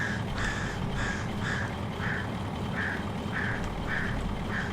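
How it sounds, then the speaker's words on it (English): Crows caw in a steady repeating series of harsh calls, about ten in a row, from outside a window, continuous and moderately near over a low background rumble. "the crows are having a fight outside my window"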